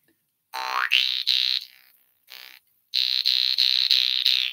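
Harmonica notes played with the mouth cavity closed down, giving a thin, nasal, buzzy tone: several sustained notes in short phrases, one sliding upward, with brief gaps of silence and no talking.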